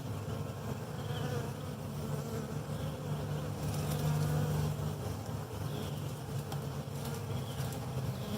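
Honey bees swarm around a Flow Hive in a steady, dense buzzing drone, close and continuous, with no voices.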